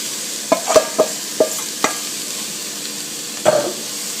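Washed, chopped radish leaves tumble into onions frying in a pot: a handful of sharp clatters and scrapes close by, then a soft sizzle between them and one last cluster of knocks.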